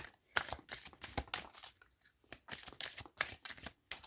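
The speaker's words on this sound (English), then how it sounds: "you're giving those a good overhand shuffle again" A brand-new tarot deck gets an overhand shuffle by hand, with quick rhythmic bursts of cards sliding and slapping together, close and crisp, running steadily for about four seconds with no talking.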